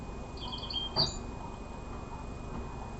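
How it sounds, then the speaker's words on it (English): A bird gives a few faint, high chirps clustered in one brief moment, set against steady background hiss. "That's crazy how the bird chirped at the end."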